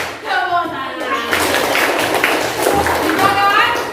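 Schoolchildren in a fourth-grade classroom clap their hands together in a clapping game, a dense burst of many hands close by, mixed with children's voices and chatter.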